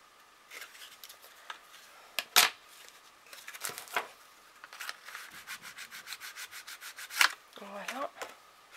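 A bone folder creases and smooths paper, making scraping, rubbing strokes that come in uneven bursts, with a quick run of rhythmic short rubs near the end.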